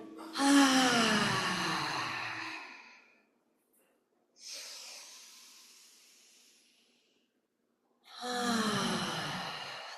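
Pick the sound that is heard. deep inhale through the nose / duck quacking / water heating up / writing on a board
deep inhale through the nose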